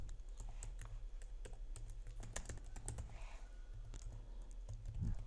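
Computer keyboard typing while HTML code is entered in Visual Studio Code, a steady run of quick, light key clicks at close range with no voices.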